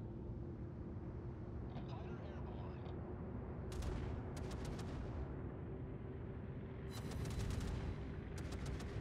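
Naval gun salvos from the heavy cruiser Atago in the World of Warships game, a few sharp distant cracking volleys in clusters over a steady low rumble of engine and sea noise, fairly faint.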